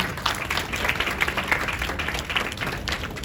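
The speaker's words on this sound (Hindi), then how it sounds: "इनके लिए एक बार जोरदार तालियां फिर से।" Audience at a prize ceremony giving a hearty round of applause, dense overlapping claps that stay steady and fairly loud throughout the short stretch.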